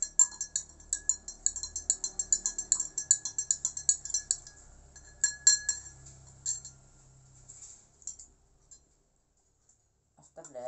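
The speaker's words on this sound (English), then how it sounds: "And stir it." A spoon clinks rapidly against a glass while iced lychee tea is stirred, a quick run of bright ringing taps that slows, fades to a few scattered clinks and ends in silence.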